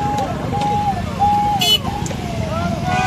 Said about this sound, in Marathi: तुफान मोठा ताफा आहे. पाठीमागे भरपूर गाड्या आहे.